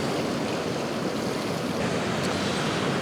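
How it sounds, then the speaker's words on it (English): Big sea waves break and wash along the coast at Flamborough, a dense, continuous roar with wind buffeting the microphone, steady and loud across the whole stretch. "there is some big waves forming out there"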